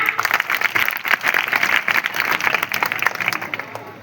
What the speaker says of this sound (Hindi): नेताजी के लिए जोरदार तालियां।